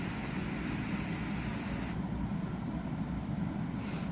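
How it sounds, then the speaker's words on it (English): Close, steady hiss of a spray paint can coating a tumbler, continuous for about two seconds, then duller rushing noise as the spray cuts back, with a brief hiss returning at the end. "I turn my cup while I'm spraying"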